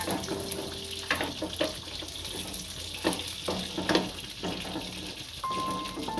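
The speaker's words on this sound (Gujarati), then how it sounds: "આમાં હવે તુવેરના દાણા નાખીશું અને સેડવી લઈશું" Green pigeon peas (tuvar) tumble into hot oil in a home kitchen pan and sizzle steadily, with soft stirring scrapes and a few clinks of a spoon against the pan.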